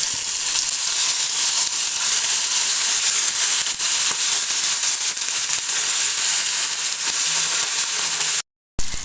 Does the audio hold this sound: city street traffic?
no